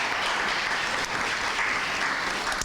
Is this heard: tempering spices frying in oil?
no